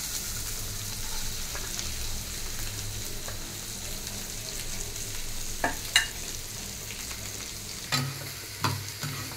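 Onions, green chillies and ginger sizzling in hot oil in a pan, a soft continuous crackle with a few sharper stirring clinks near the end.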